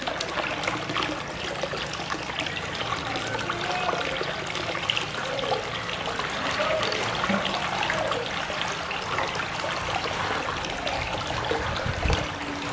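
Shower water pours steadily onto a sick koi fish, a constant close splashing and trickling stream that runs without pause and with no talk.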